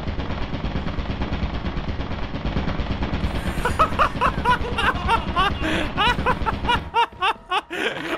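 Turret firing in Lethal Company, a rapid machine-gun rattle building over a noisy background, with people laughing over it near the end.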